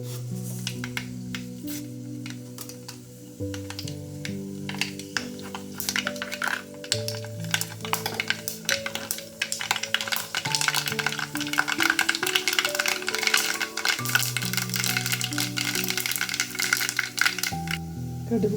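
Mustard seeds, added after fenugreek, pop in hot oil while mango pickle is made. A dense, irregular crackle of tiny pops builds and grows busier toward the end over a steady music bed.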